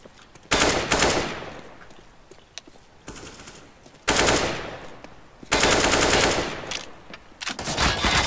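Loud bursts of automatic gunfire spray in a video game shooter. Four separate volleys of rapid shots come between short quieter gaps, up close and with no voices.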